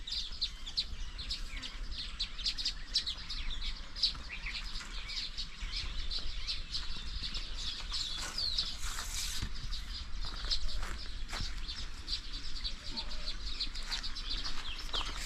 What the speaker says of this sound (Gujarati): આ કલશોર સાંભળો, કેટલા પક્ષીઓ અહીં બોલી રહ્યા છે.